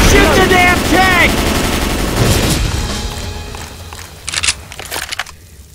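Gunfire in Left 4 Dead 2 as players shoot at the Tank, a loud dense barrage of rapid shots and booms mixed with shouting voices, fading toward a few sharp bursts near the end.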